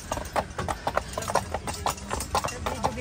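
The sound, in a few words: horse hooves clip-clopping near Neuschwanstein Castle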